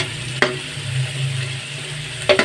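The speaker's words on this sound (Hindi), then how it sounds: "ठीक है, टमाटर की अच्छे तरीके से भुनाई हो जाए।" Tomatoes frying in a pan for a spicy chicken and vegetable spaghetti sauce give a steady low sizzle, broken by two brief scraping stirs near the start and end, with no talk.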